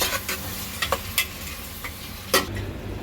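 Mutton madhooth frying in a pot, stirred with a spoon that gives several quick scrapes and knocks over a constant close sizzle, with one louder clatter near the end.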